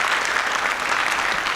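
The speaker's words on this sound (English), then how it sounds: "Give her a round of applause." A school audience welcoming the incoming high school class of 2029 breaks into brief, full applause, a thick, even roar of clapping hands from a sizeable crowd with no talking.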